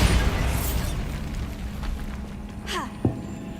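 A Bombarda spell blast goes off in a Harry Potter video game, a rumbling explosion that fades into a whooshing sweep and ends with a short pop.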